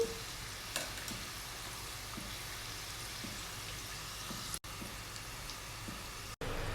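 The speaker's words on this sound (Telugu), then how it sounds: "ఇలా 1 by 1 టర్న్ చేసుకుంటూ మాడిపోకుండా ఫ్రై చేసుకోవాలండి" Karjikayalu sizzle as they deep fry in hot oil, a steady, close crackling fizz that runs throughout, broken by two brief dropouts.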